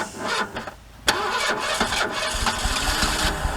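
A car engine cranks and fails at first, then catches and roars into a steady, loud idle that runs to the end, with no talk over it.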